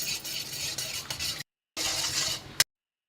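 Beaten egg being scrambled in hot oil in a pan for Burmese atho, a close, dense sizzle with stirring scrapes, cut by a brief silence, then more sizzling ending in a sharp clink.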